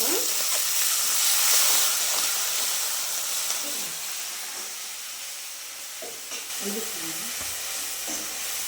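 Onions fry in a pan for chicken curry with a constant, fairly loud sizzle, while a few faint spoon scrapes and stirs come through now and then; no speech.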